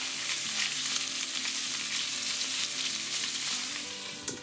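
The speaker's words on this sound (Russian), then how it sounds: "отправляю рыбку обжариваться на сковороду." Fish frying in a pan gives a steady, close hiss and crackle of hot oil that keeps on without a break, with no talk over it.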